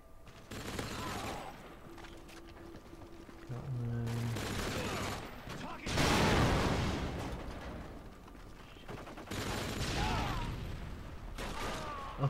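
Grenade launcher fire in a first-person shooter video game, several loud bursts and blasts arriving in separate waves across the clip, with game sounds filling the gaps.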